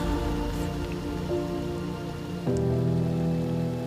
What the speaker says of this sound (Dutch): Voor de 4e dag op rij hebben we regen.